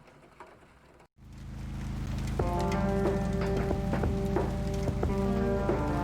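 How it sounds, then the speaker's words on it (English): Steady rainfall in the video game Kathy Rain, a dense hiss of drops on surfaces that swells up after a brief silent gap, with faint tonal ambience beneath and no talking. "Let's go into the rain."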